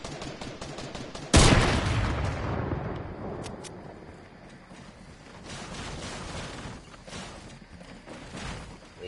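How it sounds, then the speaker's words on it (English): Burst of video game gunfire shooting out a player's built ramp: a sharp loud blast followed by a decaying rumble and a few scattered, fainter shots with mechanical clatter. "he just decided to shoot out my ramp"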